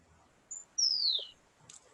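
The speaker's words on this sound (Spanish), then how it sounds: "Ahí escuché los pajaritos." A couple of brief, faint bird chirps come from somewhere outside, a thin rising-falling tweet followed by a short second call, heard alone over a quiet background.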